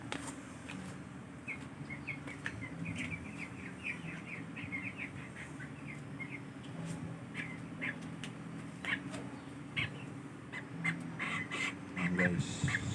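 Chickens cluck and chirp in a noisy indoor setting, with a steady low rumble underneath and occasional clicks and knocks.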